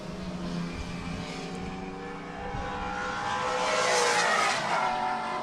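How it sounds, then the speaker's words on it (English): Vintage race cars, among them a 1972 Alfa Romeo GTV, run on a circuit at the Spokane Festival of Speed: engines drone and swell as cars approach, rising to a louder pass near the end, with no voices. "They'll be coming in hot on the 35 car, a 72 Alfa Romeo GTV, driven by Kevin Shaha"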